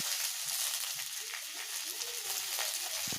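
Potatoes and eggplant hit a hot pan with chillies, frying in a steady, close sizzle with soft crackles and a few louder spits near the end, no voices.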